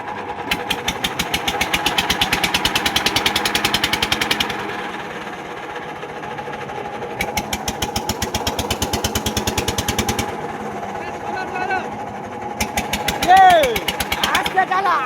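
Small boat engine chugging along in the Sundarbans mangrove forest, a loud steady rapid knock that drops back briefly and picks up again, with voices talking over it.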